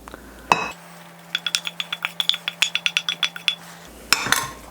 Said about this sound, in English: And then we stir that into the dry ingredients quickly.